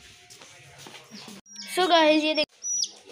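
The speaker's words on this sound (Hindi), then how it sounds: "ये देखें ये इसके पास तीन चूजे हैं, एक येलो एक ग्रीन और एक पिंक" Three small colored chicks give a brief burst of high, sharp chirping that stands out near the middle, while a person speaks before and after it.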